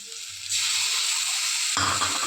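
Ginger-garlic paste drops into hot oil with fried pieces, bursting into a loud, bright sizzle that hisses steadily, with stirring scrapes joining near the end.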